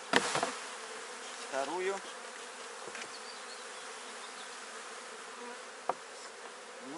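Honeybees hum and buzz close by as they are shaken off hive frames at the entrance during cold weather, a soft continuous drone broken by a few knocks and handling thumps, with a brief spoken word.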